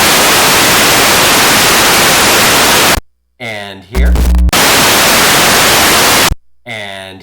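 A synthesizer's noise source produces loud, steady white noise hiss. It plays in two long stretches that cut off abruptly, and between them come brief speech and tonal synth sounds.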